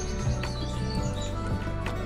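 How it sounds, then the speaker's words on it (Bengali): Birds singing around a car journey near Jalpaiguri: a few faint, high chirps over a low, steady rumble. "আর পাখিদের গান"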